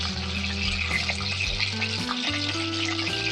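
Hilsa fish paturi wrapped in cabbage leaves frying gently in oil over a low flame, a steady close sizzle with soft crackle running throughout, no talk.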